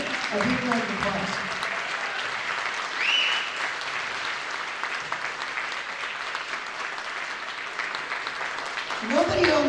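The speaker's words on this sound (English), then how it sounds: "Please give them a big round of applause." An audience at a Christmas concert claps in steady, sustained applause that fills the room for about ten seconds, with a few voices rising briefly at the start and end.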